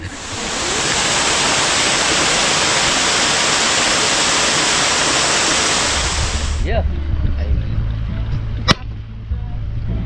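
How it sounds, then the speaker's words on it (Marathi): Secret hidden waterfall in Malvan roaring as a loud, steady wash of falling water up close, then cutting off abruptly near the end to quieter background with a brief sharp click. "हे कुठला वॉटरफॉल आहे? सिक्रेट वॉटरफॉल आहे."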